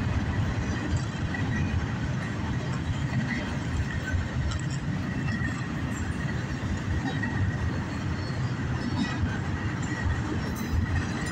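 A northbound CSX intermodal double-stack freight train rolls steadily past close by, a continuous heavy rumble of railcars with faint wheel squeal, no voices, unchanging in loudness throughout.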